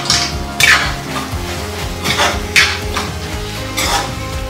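Spoon scraping and clinking against a pan while dry aloo gobhi is stirred with garam masala, a close series of repeated metallic scrapes and knocks over a steady background hum.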